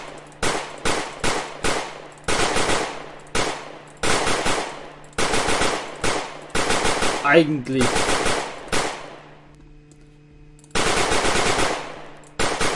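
Rapid gunfire in the zombie shooter game Zombiehaus comes in loud, repeated bursts with short gaps between them, along with a brief descending tone and a single spoken word.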